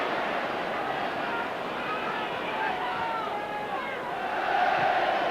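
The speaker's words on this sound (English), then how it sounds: "Stewart's tackle draws applause." A large stadium football crowd at a Manchester City versus Aston Villa match keeps up a steady, distant roar of applause and noise after a tackle, swelling slightly near the end.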